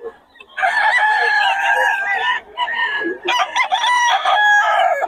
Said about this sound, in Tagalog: Ang gaganda lang manok niya ngayon.